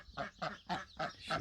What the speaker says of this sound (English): And Broody duck now is 2 weeks in